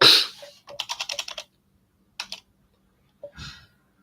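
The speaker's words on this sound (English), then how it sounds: "you type systemctl status system status here" Typing a Linux command on a computer keyboard: a quick close run of crisp keystrokes, then a short pair and a final few taps, with silence between bursts.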